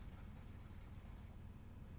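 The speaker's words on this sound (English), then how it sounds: "let's start with the 400 grit sanding block first to really kind of take this down to 0" Steady dry rubbing and scraping of a 400 grit sanding block being worked over a mecha model part, continuous and close for the whole stretch with its hiss thinning near the end, and no voices.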